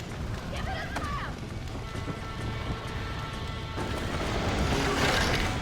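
A horse in the Red Dead Redemption video game gives a short neigh near the start, then gallops away in a steady, loud run of hoofbeats that builds toward the end.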